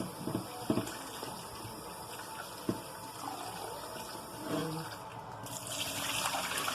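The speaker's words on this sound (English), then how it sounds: "add some water. Kind of give them a swirl around." Water from a kitchen faucet runs and splashes over sticky tomatoes as they are rinsed and swirled in a bowl, a steady close trickle with light clatter and a brighter gush near the end.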